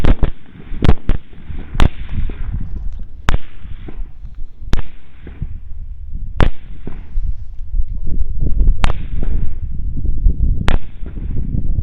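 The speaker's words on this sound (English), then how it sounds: "You ready to start shooting? Okay. 3, 2, 1." Rifle gunshots ring out during a night hog hunt in North Texas, about eight sharp, loud cracks spaced irregularly over a steady background hum, with no talking.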